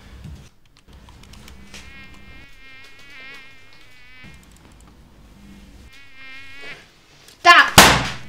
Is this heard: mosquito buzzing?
yes